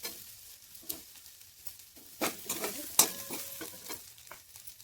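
Potatoes, chillies and onions frying in a pan with soybean chunks, a soft sizzle broken by scattered stirring scrapes and light metallic clinks of a spoon against the pan.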